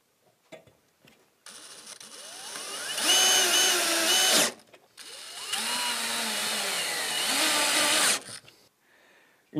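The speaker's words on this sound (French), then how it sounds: "Alignez les pré-perçages réalisés et on va pouvoir commencer à visser." A power drill drives screws into a wood and metal compost bin, two sustained whirring runs of several seconds each that rise in pitch and then stop abruptly, close and loud, with brief quiet between them.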